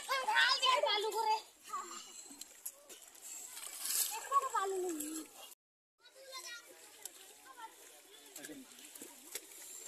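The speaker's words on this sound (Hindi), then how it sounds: "अभी हम आए हुए नदी में नहाने के लिए, अब बहुत सारे बच्चे भी आए हुए हैं हॉस्टल के" Hostel children bathe in a river, with water splashing and sloshing in bursts while children shout and chatter nearby and an adult voice speaks over the scene.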